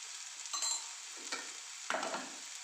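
Ivy gourd and onion stir-fry is stirred in a hot pan, a steady sizzle broken by a few distinct scraping stir strokes.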